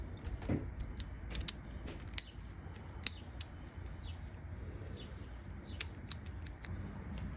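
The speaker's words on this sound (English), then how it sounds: "And then we'll screw this down." A blade holder being screwed down on a plastic and metal razor blade scraper: sparse, close, small mechanical ticks and clicks with a few sharper snaps over quiet room tone, no talking.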